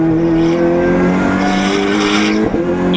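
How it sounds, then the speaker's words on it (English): A Volkswagen Golf Mark 7 GTI race car run by Wolf Motorsport laps a circuit, its engine droning loud and steady at high revs with a brief dip near the end, and no other sounds on top. "lap of the race for Carlito Baracco, who continues to hustle the Wolf Motorsport Volkswagen Golf Mark 7"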